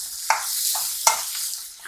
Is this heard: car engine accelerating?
no